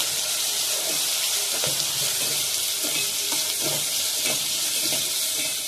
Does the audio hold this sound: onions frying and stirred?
yes